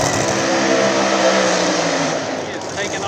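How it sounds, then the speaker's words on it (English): A Corvette pro mod drag car launches with a roaring, high-revving engine blast, loud and sustained, easing slightly toward the end. "There we go, Kurt Stedding in the Corvette."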